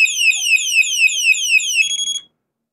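Electronic bicycle horn buzzer sounding a rapid warbling siren tone, loud and close, that shifts to a steadier beep pattern as its sound mode changes before cutting off.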